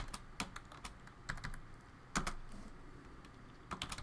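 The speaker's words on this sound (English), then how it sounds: "So let me type this in here." Quick, uneven keystrokes on a computer keyboard, near and fairly quiet, with a few heavier key presses standing out in a steady clatter.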